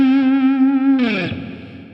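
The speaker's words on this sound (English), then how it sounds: "in the tune starts out with this really cool octave thing" Distorted electric guitar playing an octave riff: one sustained octave note slides into a short second note that quickly fades out, solo and close.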